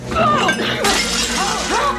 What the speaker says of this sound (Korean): 귀한 맨드레이크의 원액이 박살나고 맙니다.